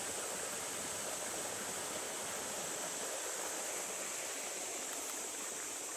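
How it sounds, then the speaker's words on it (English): Steady broadband rush of a waterfall on the Flora or Victoria River in the Northern Territory, continuous and fairly close, with no voices over it. "there's a waterfall in there."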